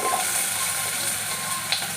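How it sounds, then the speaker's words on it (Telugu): Cut radish pieces frying in a little oil in a pan, a steady close sizzle with faint stirring scrapes throughout. "ఇప్పుడు వేరే ప్యాన్ పెట్టుకొని ఒక 1/2 స్పూన్ ఆయిల్ వేసుకొని ముందుగుండా కట్ చేసి పెట్టుకున్న ములంకాయలను ఫ్రై చేసుకుంటాం"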